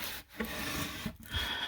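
A dry cloth rubs and scrapes along a wooden kitchen shelf, dusting it out in close, steady strokes broken by two short pauses.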